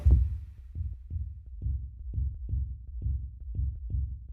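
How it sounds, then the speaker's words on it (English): Deep, thumping synthesized kick drum hits repeat in a steady, even rhythm, low and boomy after one louder opening hit. "you can hear that sounds a little bit more like a kick"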